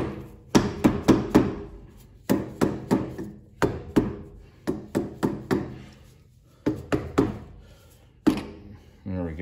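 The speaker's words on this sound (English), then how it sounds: "I'll take that off and then tap the cover off here" Metal hammer taps knocking the cover off a trailer wheel hub, sharp ringing strikes in quick bursts of three to five blows separated by short pauses, close and loud, no talking.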